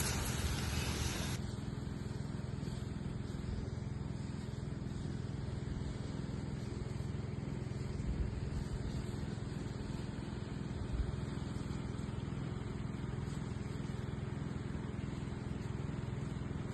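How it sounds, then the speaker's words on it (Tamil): A motorized sprayer hisses and drones continuously as natural medicine is sprayed onto mango trees on a farm in Chennai, a steady engine hum with a constant spray rush throughout. "மருந்து பாருங்கள், இந்த மாதிரி மரத்தை குளிக்க வைக்கணும்"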